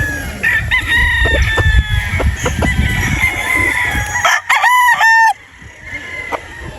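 A fighting rooster crows loudly and close by, with a full cock-a-doodle-doo near the end and shorter calls and clucks earlier over a busy background.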